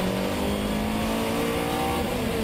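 GT race cars lapping at Autopolis during a GT Asia round in 2014, with slower GTM cars holding up the leaders. Engines drone loud and continuous with a steady high tone, as if the cars are close and at speed.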